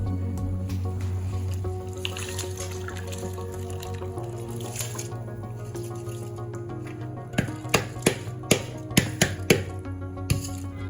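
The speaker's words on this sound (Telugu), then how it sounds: "సో దీంట్లోకి ఇప్పుడు కడిగి పెట్టుకున్న బియ్యాన్ని యాడ్ చేసేస్తున్నాను" Washed rice tipped into a pot of boiling water for chicken biryani, with a steady low simmering hum and then a quick run of distinct splashing drips near the end, no talking.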